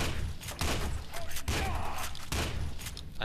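A combat shotgun fires repeatedly in the shooter game F.E.A.R. 2, with heavy booming blasts landing about once a second amid dense, noisy combat clatter.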